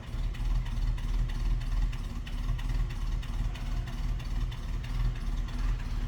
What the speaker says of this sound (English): Hear that engine purring away.